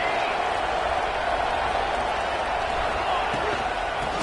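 Stadium crowd in a college football video game roaring steadily for the defense in the red zone, a dense continuous wash of cheering with a play-by-play voice talking over it.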